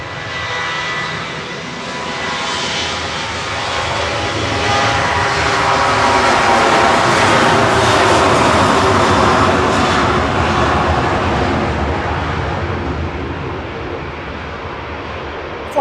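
An Emirates airliner departing Manchester Airport makes a loud, sustained engine roar that swells toward the middle and then eases slightly as the jet climbs away, with no talk.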